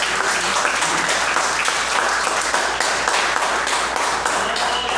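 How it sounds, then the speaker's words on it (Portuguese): A church congregation claps together in sustained, dense applause that holds steady and loud throughout, with no one speaking over it. "desocupando as mãos e batendo palmas"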